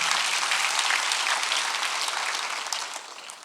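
Congregation applauding during a church worship service, a broad steady wash of clapping from many hands that fades slightly toward the end.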